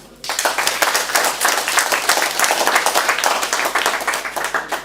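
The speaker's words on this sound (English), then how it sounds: "Give yourselves a good clap." A room full of participants at a training session claps together in a sustained burst of dense, fairly loud applause that starts abruptly and continues evenly throughout.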